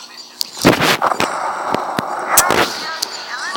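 Sharp bomb blasts and gunfire crack from the Modern Combat 5 online shooter, several brief loud bursts in quick succession, with a voice briefly heard in between.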